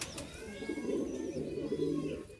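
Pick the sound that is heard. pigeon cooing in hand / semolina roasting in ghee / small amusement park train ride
pigeon cooing in hand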